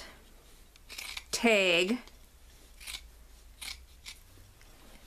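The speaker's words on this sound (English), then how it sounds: "I'll be cutting just above the stitching line on this band" Scissors cut through sweatshirt fabric just above the stitching in one loud, close crunching snip, followed by a few fainter snips and rustles while a person speaks quietly.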